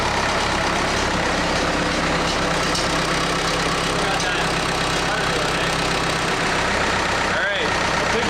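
A Case 430 skid steer diesel engine, running rough after the machine fell over, roars steadily at full throttle close by, with a brief knock or shift near the end.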